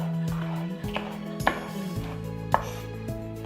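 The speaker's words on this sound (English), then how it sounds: "Now you find your flat surface and we're gonna slice it again." A knife slicing a pepper on a cutting board, a handful of sharp, close taps spaced unevenly about half a second to a second apart over a low background hum.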